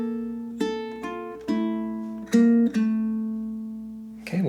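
A ukulele plays the eighth bar of the Japanese folk song Sakura Sakura, with a handful of separate plucked notes ringing out one after another, close and clear, with no talking.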